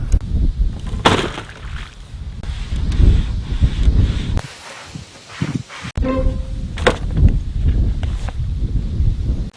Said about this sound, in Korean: 영상 속에 바람 소리가 어마어마하게 들어갈 것 같은데 어쩔 수 없습니다.